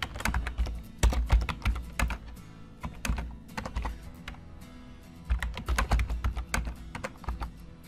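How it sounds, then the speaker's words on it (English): Rapid typing on a computer keyboard as commands are entered at a software prompt, with bursts of crisp key clicks separated by short pauses, close and clear with no talking. "I'm just going to type a few commands at the Cubit command prompt."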